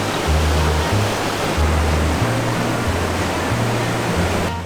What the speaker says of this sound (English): The river is so loud